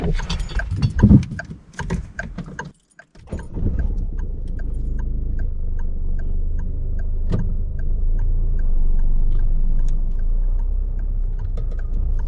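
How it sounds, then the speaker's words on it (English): A learner driver's car stalls during a hill start on a steep bank in a driving test, with a loud engine rumble cutting out abruptly, a brief silence, then the engine running again in a steady idle hum with faint clicks. "So as you can see, Steph did stall the car."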